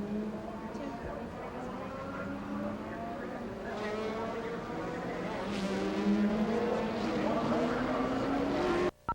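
Prototype race cars of the 1987 IMSA GTP West Palm Beach Grand Prix circulate under caution on a street circuit, engine notes rising and falling as cars pass, heard under a commentator talking.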